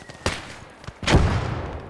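Two heavy gunshots boom in a World War II Eastern Front video game battle, the second deeper and rumbling as it decays.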